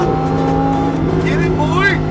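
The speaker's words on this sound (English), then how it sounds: "Here comes Joe in the GT3" A Lamborghini Huracán and a Porsche GT3 racing past, a loud engine drone that rises in pitch as a car sweeps by close, with a person talking and shouting excitedly over it.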